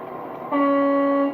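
A model railway locomotive on a layout gives a steady, sustained horn-like tone that starts abruptly partway through and holds loud and close over quiet background hum.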